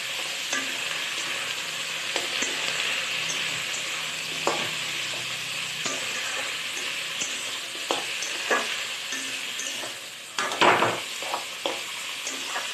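Potatoes frying in a pan for a sim chorchora dish, a steady loud sizzle with periodic scrapes and clinks of a spatula stirring against the pan.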